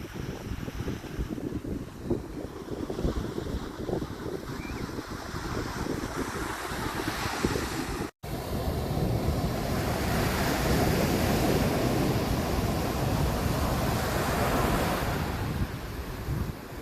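Surf breaks steadily at Lumsden Beach, Newfoundland, with gusty wind buffeting the microphone throughout, a continuous loud rushing roar that has a brief dropout midway.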